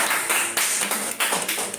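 A group of students in a classroom gives a short burst of applause, quick uneven claps and taps close by, lasting under two seconds with no talking.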